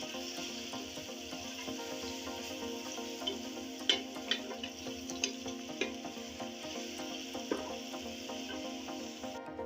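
Onions browning in a pan with ginger garlic paste for aloo gosht, a steady bright sizzle with occasional crackles and stirring clicks, close and continuous with no talking.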